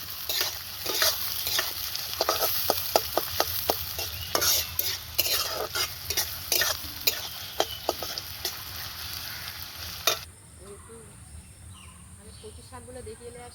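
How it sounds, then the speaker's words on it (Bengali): Onion frying in hot oil in a kadai for village-style cooking, a constant close sizzle cut by rhythmic scraping stirs for about ten seconds before the stirring stops and only a quieter hiss remains. "তেলটা গরম হয়ে গিয়েছে, এবার পেঁয়াজটা দিয়ে দেবো"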